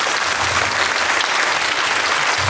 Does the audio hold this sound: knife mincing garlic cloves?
no